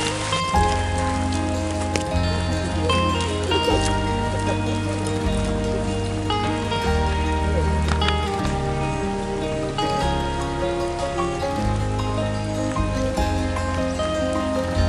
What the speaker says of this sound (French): Et là, c'est la pluie.